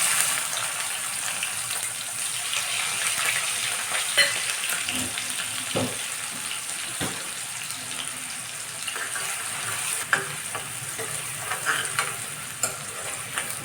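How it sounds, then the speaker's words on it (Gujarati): Cumin, asafoetida and onion fry in a pan, giving a continuous hissing sizzle with occasional faint knocks of a spoon, close and even throughout. "હવે એમાં હિંગ અને ડુંગળી એડ કરી દઈશું"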